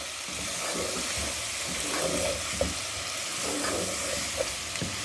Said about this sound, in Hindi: इनको हम अच्छी तरह से फ्राई कर लेंगे पहले मसालों के साथ।